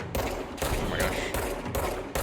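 Gunfire in the video game Control, loud rapid bursts of shots in several clustered volleys with short pauses between them.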